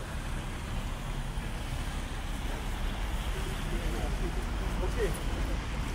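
A river in Bosnia flows steadily, a broad rushing wash heard close and constant, with some wind noise over the microphone.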